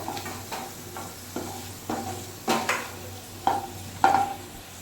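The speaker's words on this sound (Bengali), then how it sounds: "আলুটা তুলে নিচ্ছি আস্তে আস্তে" A spatula scrapes and clinks against a pan in slow, repeated strokes, scooping out fried potatoes, while oil sizzles softly underneath.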